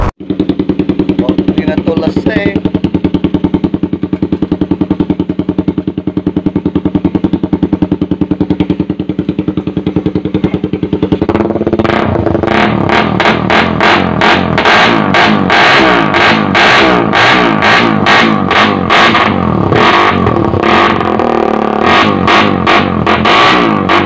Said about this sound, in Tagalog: yung sound check ng APX pipe